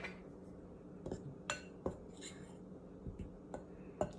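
Spoon scraping and clinking in a bowl while mixing dry ingredients with salt and baking powder for Haitian paté kòde dough, several sharp light knocks spaced irregularly over a steady low background hum, nearby and fairly quiet.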